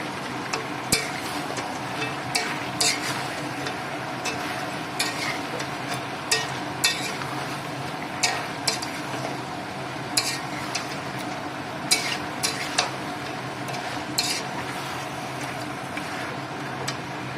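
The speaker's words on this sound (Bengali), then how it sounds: "এখানে তেজপাতা ডালচিনি লং ইলাচ দিয়ে দিচ্ছি" Bay leaf, cinnamon, cloves and cardamom fry in oil in a pan under a soft, constant sizzle, broken by regular clicks and scrapes of a utensil being stirred close by, with no talking.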